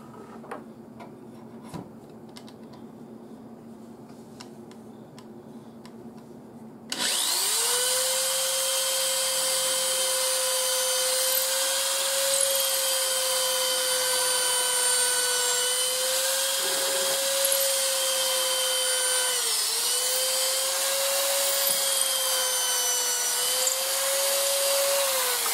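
Boring a hole in wood for a hollow and round hand plane, after a quiet stretch: a power drill starts abruptly and runs steadily and loud to the end, with a whining tone that dips and rises slightly as it cuts.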